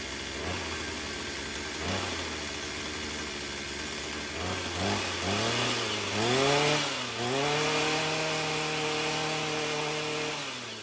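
A primed, choked and recoil-started chainsaw engine runs steadily at close range, its tone rising and settling through a few throttle blips after the first rough catches.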